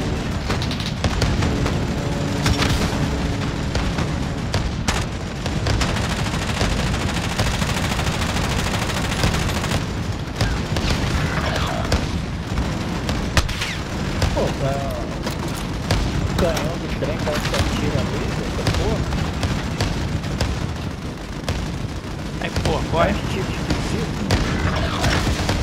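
Dense, continuous gunfire and booming explosions in the video game Call of Duty Modern Warfare on the Verdansk map, loud and unbroken throughout, with bursts of rapid shots layered together and players talking over the battle.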